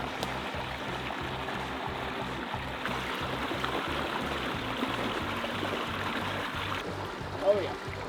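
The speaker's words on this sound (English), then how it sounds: "A lot of water went through there." Water pours steadily through a flooded swamp channel on a deer hunting property, a continuous rushing flow heard close by, with a low rhythmic thumping running underneath it throughout.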